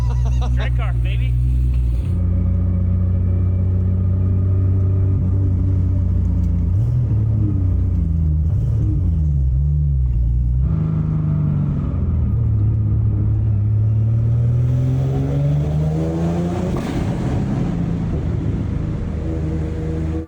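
A Nissan GT-R R35 drag car engine idles with a deep, steady rumble that stays loud and close throughout, its tone shifting slightly as it settles.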